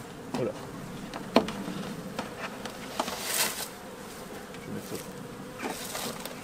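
Honeybees buzzing at an open school beehive, a close, continuous hum of many bees with a few louder fly-bys and faint handling sounds, no speech.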